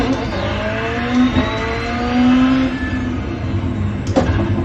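A rallycross race car engine revs hard through the gears, rising pitch sweeps with brief dips at shifts, loud and close as from inside the cockpit.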